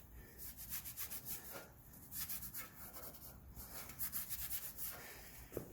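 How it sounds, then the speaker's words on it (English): A rag wipes grease off a CV joint boot on a sand rail hub in quiet, close, rhythmic rubbing strokes, with no voices. "I'm going to take and wipe off all the grease I left on it."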